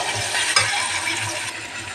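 Two tomatoes frying in a pan with spices, giving a steady, close, broadband sizzle with a few light scraping clicks and no talk.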